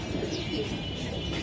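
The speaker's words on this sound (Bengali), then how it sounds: "এই যে আরেকটা কবুতর, বাহ" A racer pigeon cooing softly at close range, a low murmuring coo rolling on through the moment amid a busy, noisy background.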